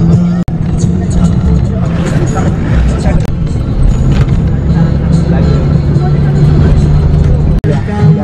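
A bus rolls along a road in Nepal, a loud, continuous engine drone with rattles and bumps, two sharp knocks, and people chattering in the background.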